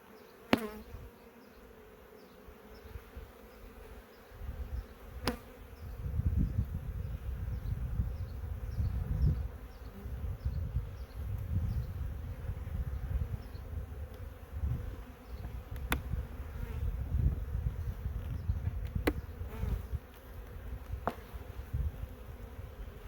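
Honeybees buzzing during a spring beehive inspection: a dense, continuous close-up hum of many insects that swells and wavers, with a few faint sharp clicks of hive tools or frames.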